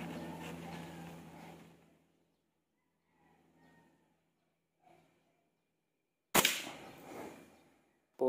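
An airgun fired on a shooting range, a sharp, close crack that cuts through near-silence, after quieter shuffling and faint handling noises, followed by a fading tail and another abrupt sound at the very end.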